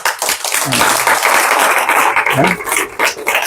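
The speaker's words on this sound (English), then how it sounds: "give claps more." Audience clapping fills a morning devotional gathering for Lord Narayana's darshan in Tepoztlan, Mexico: a dense, steady wash of hands, with a few voices calling out over it.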